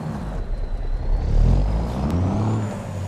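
Truck engine fitted with a big cam mod in American Truck Simulator, a deep, steady low rumble that swells slightly, with a faint whine above and a brief hiss near the end.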